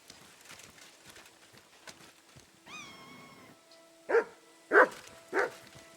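A dog barks three times in Kingdom Come: Deliverance II, sharp loud yelps near the end, after a stretch of quiet footsteps and a soft whining tone.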